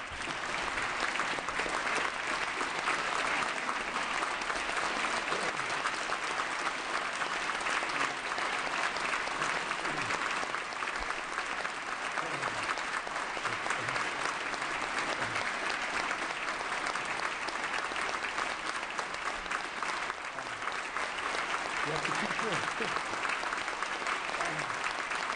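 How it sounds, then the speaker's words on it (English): A sustained round of audience applause greets Governor Edmund G. Brown Jr. at his 2012 State of the State address: a thick, even roar of many clapping hands filling the hall, holding steady without a break for about twenty-five seconds. "a big round of applause for Governor Edmund G."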